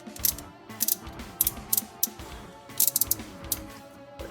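The plastic arms of a Thunderking transforming toy robot (the Landbull bot) are twisted, giving a series of close, sharp ratcheting clicks in irregular clusters, with no talk.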